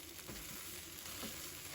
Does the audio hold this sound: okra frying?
yes